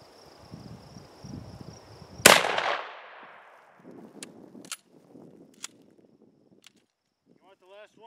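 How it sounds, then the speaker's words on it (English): A single sharp, loud gunshot from a Russian gun fired at a target, followed by a fading echo, scattered clicks and handling noise, with people talking quietly before and after. "You can't even hit the damn target, Andy. A lot of recoil"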